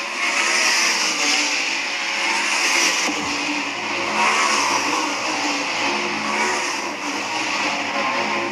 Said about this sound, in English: cars circling to get their first lap here as the white flag flies